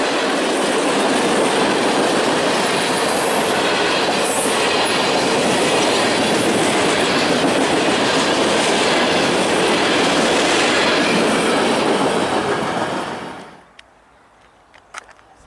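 A long freight train rumbles past close by with steady wheel noise and clatter on the rails, then cuts off abruptly, leaving near silence.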